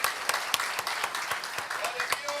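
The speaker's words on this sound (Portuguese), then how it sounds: "Uma salva de palmas para vocês, gente" A church congregation claps in steady applause, a dense wash of many hands with sharp individual claps standing out, fairly close and continuous.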